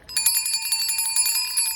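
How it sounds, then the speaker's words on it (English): Small metal church bells, originally from a Catholic church, are rung before a service, giving a bright, rapid shimmering jingle of close, clear repeated strikes with ringing overtones. "I also ring some bells before the beginning of the service."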